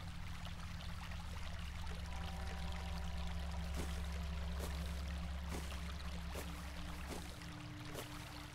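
A river flowing in the video game Meadow, a steady rushing stream of water under soft game ambience, with faint intermittent knocks and a gentle tonal hum.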